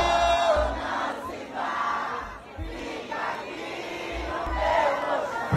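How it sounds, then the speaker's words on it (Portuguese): A large crowd sings along loudly at a baile funk party in Montes Claros, Brazil, massed voices rising and falling over thumping bass beats, dense and continuous. "Canta mais alto, Montes, vai."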